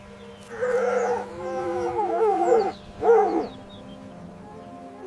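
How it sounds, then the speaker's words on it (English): A fox gives a few wavering, whining howls in short bursts with brief pauses between them, moderately close over a faint steady hum, with no voices. "It's a fox."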